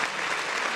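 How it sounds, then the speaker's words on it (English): Brief burst of steady, dense applause for the guests of an MMA prediction show, even in level throughout. "Give these fellas a round of applause."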